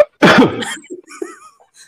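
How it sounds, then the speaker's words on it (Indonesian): A single loud, close cough bursts out, followed by a short throat-clearing rasp and some breathy trailing sounds. "Sampai batuk."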